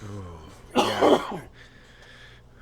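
A single phlegmy cough bursts out loud and close for about half a second, rough and wet, with brief talk before and low room noise after.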